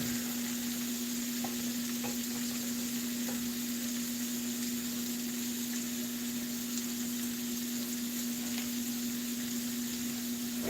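Onions fry in a pan for shrimp and grits, a steady low sizzle with a constant hum underneath and a few faint ticks, continuing evenly without any voices.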